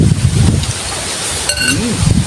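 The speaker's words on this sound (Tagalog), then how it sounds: "Grabe yung hangin." Strong wind in rainy weather buffets the microphone in heavy, rumbling gusts, with a faint rush of water and a few brief tonal squeaks in the background.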